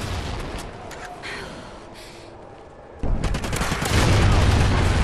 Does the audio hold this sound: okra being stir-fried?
no